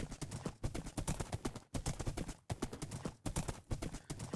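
Horse hooves clip-clop steadily in a Minecraft-style multiplayer game, a fast even rhythm of close, fairly loud hoofbeats with brief pauses and no speech over them.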